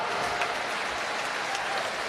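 Crowd applause for a swimmer finishing a race at the New Zealand national swimming championships, a steady, dense clapping that fills the whole short stretch.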